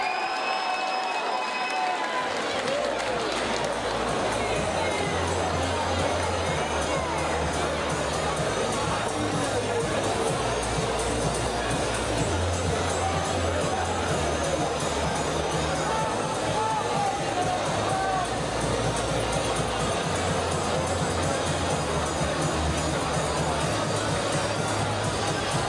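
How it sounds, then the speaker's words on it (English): A boxing crowd at an amateur bout applauds and cheers continuously, a dense wash of clapping and shouting with an announcer's amplified voice and background chatter running underneath. "let's have a round of applause once more for Dan Cooksley"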